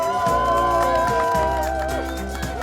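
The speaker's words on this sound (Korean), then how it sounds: "큰 박수 부탁드립니다" A crowd at a Korean street campaign rally claps and cheers loudly in a dense, sustained burst that slowly thins, with amplified voices and music tones over it.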